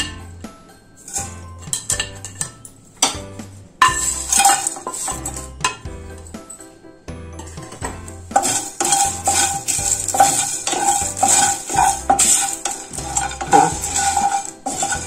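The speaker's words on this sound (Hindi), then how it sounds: "अब गैस बंद करेंगे और सारे मसाले को इसमें बारी बारी से डाल के रोस्ट करेंगे" Whole spices roasted in a hot kadhai with the gas turned off, loud rhythmic clinking and scraping of a metal spoon against the pan, stirring continuously and growing busier partway through.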